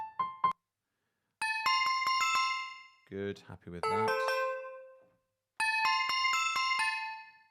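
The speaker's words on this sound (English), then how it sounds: "Let's go for a bell sound." A bell-type virtual instrument in BandLab, gamelan style, plays bright struck notes in quick bursts of several ringing tones that decay; a voice speaks briefly between the phrases.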